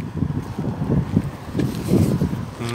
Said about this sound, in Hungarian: Kicsit fúj a szél.